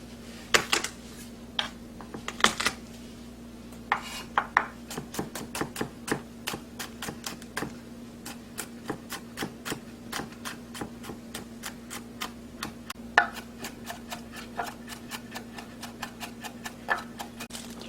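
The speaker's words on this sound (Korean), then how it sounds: "마늘은 3알 정도만 다져주세요." A knife chops garlic cloves on a cutting board with steady, crisp taps, close and clear and mostly evenly spaced, over a constant low hum.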